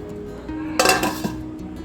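A lid set down onto a pan of simmering mushroom gravy, one short bright metallic clatter over a low hum of the stove, close by and with no speech.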